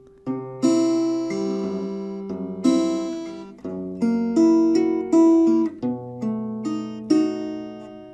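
Fingerstyle acoustic guitar plays the closing four chords of the STALKER piece, each chord plucked and left to ring with bright decaying notes, close and clean with no talking.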